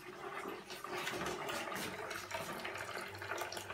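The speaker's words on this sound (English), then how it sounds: "Taking a shower." A shower runs in a steady, fairly faint hiss of falling water over a bathtub in a Lego stop-motion scene, continuous throughout with no voices.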